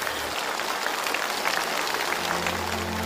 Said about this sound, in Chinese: 我们再次用掌声祝贺他们重新团圆